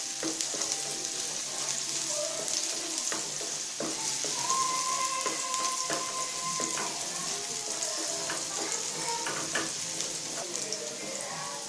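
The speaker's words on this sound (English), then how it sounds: "Fry it up and then throw the rice in there and pop some eggs on top of it for a little protein" Rice and eggs fry in a pan with a steady crackling sizzle, broken by scraping and stirring clatter from a utensil, close and moderately loud with no talk.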